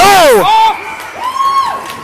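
Youth ice hockey crowd at a 13U state semifinal yelling out together to call an offside, a loud burst of voices with a whistle-like rising and falling shout that fades into scattered calls.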